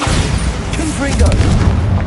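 The Confringo fire spell in Hogwarts Legacy lands as a loud, close booming blast with a deep rumble, and speech-like sounds mixed in over the brief burst.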